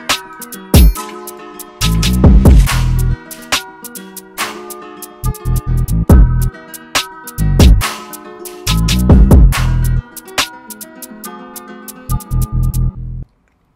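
UK drill beat made in Ableton with sliding, gliding 808 bass, stomps, a clap, kick and counter snare. It plays loud and alone, with stop-start bass slides and crisp percussion hits before ending abruptly.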